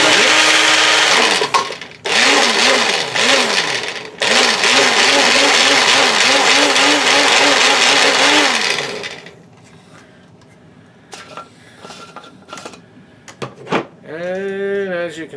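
A blender whirs loudly in repeated bursts, mixing yellow and green wool into fly-tying dubbing, then stops; afterward there are quieter handling clicks and a short motor whine near the end.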